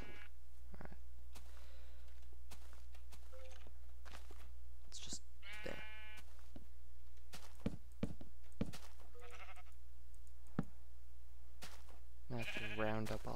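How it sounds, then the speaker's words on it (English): Sheep in Minecraft let out several distinct, fairly loud bleats, spread out over a low steady hum with scattered thumps and clicks. "Stupid sheep again."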